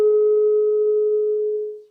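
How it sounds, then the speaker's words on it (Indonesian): A struck tuning fork rings out a single steady pure tone of about 426 Hz, loud and clean, sustaining evenly and only starting to fade near the end. "Nah, misalkan kita bunyikan garpu tala pertama."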